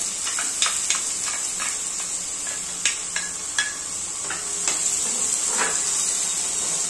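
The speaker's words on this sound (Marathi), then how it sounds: "आता याच्यामध्ये हा कांदा फ्राय करून घ्यायचा." Onion frying in a pan for egg kurma, with a steady hiss of oil broken by scattered soft spatula taps and stirring scrapes at irregular intervals, close and without talk.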